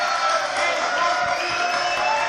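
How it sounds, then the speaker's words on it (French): A dense, steady wash of audience applause with scattered cheers, continuous and even throughout. "Malika, applaudissements."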